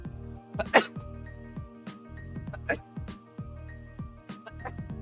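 Several short, sharp sneezes burst out over a steady backing of music and game sounds during a live gaming stream, two of them clearly louder than the rest, close and isolated rather than under talk.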